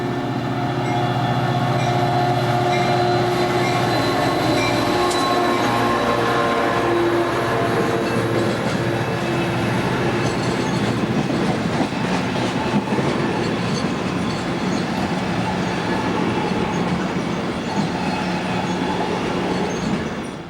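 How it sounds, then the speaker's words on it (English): An Amtrak EMD F40 locomotive roars past loudly at close range with wheels clattering over the rails, its unusual hybrid K5LA air horn sounding early above the steady rumble of the passing train at the Stockton diamonds. "We hear the very odd voice of a hybrid K5LA on F40 353."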